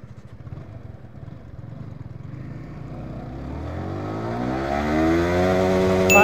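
A Yamaha R15 V4 motorcycle accelerating hard through the gears on a top speed run, its engine note climbing steadily in pitch and loudness with rising harmonics, close and uninterrupted with no talking.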